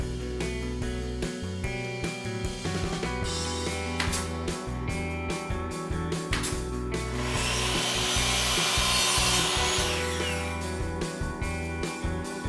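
A saw rips 1/2-inch plywood into narrow 1.5-inch strips for picture-frame interiors, a loud, dense, continuous grinding cut close by with rhythmic rubbing and scraping pulses and a rising whine near the end, with no talking.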